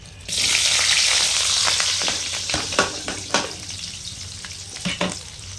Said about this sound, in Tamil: போட்டு நல்லா தாளிப்பு கொடுத்துக்கலாம் கடுகு வந்து பொரியிறது